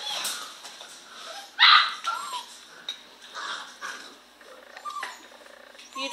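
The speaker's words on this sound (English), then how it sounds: "Who's whining, Frodo" Dog whining indoors at home, short high whimpers and yelps in quick bursts with light clattering around them, fairly close.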